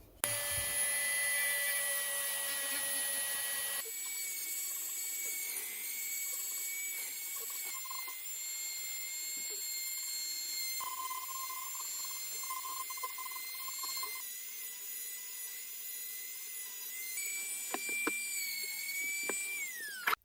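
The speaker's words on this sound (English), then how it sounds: "I'm going to get in all the little bits with the Dremel." Steady high whine of a cheap Parkside rotary tool, a Dremel-style grinder, working over the body of a 1970s Columbus EB-3 SG-style bass copy, its pitch wavering as it bites into the wood, close and continuous.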